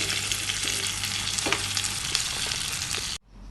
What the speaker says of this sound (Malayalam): ഡീപ്പ് ഫ്രൈ ഒന്നും ചെയ്യണ്ട, ജസ്റ്റ് ഷാലോ ഫ്രൈ ചെയ്താൽ മതി.